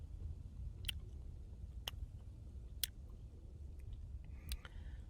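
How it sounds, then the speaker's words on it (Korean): Faint, sparse crunching of a small piece of dried licorice root being chewed close up, a few sharp bites spaced about a second apart over a low steady background hum, with no talking. "아주 작은 거 하나를 이렇게 씹어 보면은"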